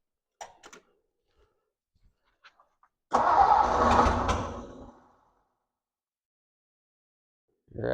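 A 1957 Ford Thunderbird engine, parked for almost 60 years, cranks and fires into a rough two-second run before dying. A few faint clicks come before it, and the clip is otherwise quiet.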